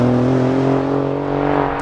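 An Alfa Romeo Giulia Quadrifoglio driving on a small test track, its engine holding a loud, steady, close droning note with a faint slow fade, no talking.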